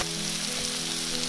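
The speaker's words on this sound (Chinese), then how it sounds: "炒香了之后，就来加入2勺白醋" Taro stems fry in a wok with white vinegar just added, giving a dense, loud, continuous hiss and crackle with no talking.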